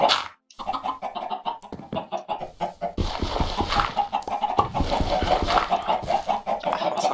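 Chickens cluck in the video game Minecraft, a steady run of clucks and squawks over busy game noise, with a brief quiet gap near the start.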